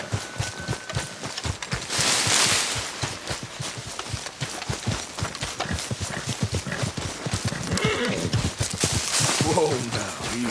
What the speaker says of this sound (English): And the horse is not cooperating.